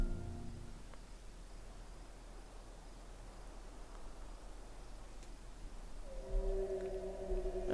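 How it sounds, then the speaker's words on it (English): A giant whale vocalizes in Final Fantasy XIV: a long, low, steady drone under a wash of noise, rising near the end into a brighter sustained tone. "Oh, I hate whale sounds so much."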